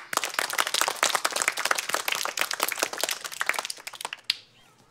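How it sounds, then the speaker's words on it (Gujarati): A school gathering gives PT teacher Jakhodara sir a welcoming round of applause, many hands clapping fast and dense at close range for about four seconds before stopping abruptly into quiet. "આપણે સૌ જાખોદરા સાહેબને તાળીઓથી વધાવીએ"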